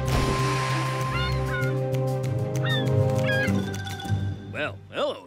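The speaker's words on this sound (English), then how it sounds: "Follow that seagull!" Cartoon seagulls in Thomas & Friends: All Engines Go! give a few short, sharp chirping calls, then two louder wavering cries near the end, over a busy background.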